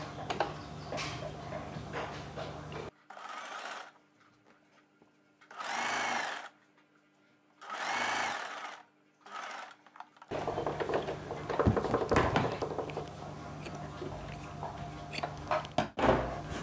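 A sewing machine stitching a kurti neck piece whirs in short separate bursts against quiet pauses, then gives way to busier handling noise with more clicks and rustling.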